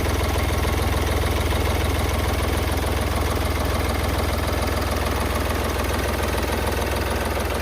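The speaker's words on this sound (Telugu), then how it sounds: "ఇంజిన్ సౌండ్ అయితే చూసుకోవచ్చు, మీకు ఈ విధంగా ఉంది." A 2017 Hyundai Grand i10 Sports diesel idles up close with a loud, steady, slightly knocking clatter that holds unchanged throughout.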